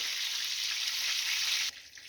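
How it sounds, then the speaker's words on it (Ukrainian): A steady, close sizzle of vegetables frying in a pan hisses for a couple of seconds, then drops abruptly quieter. "підсмажується"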